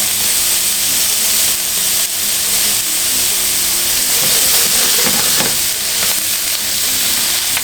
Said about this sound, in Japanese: 中火で軽く炒めていきます。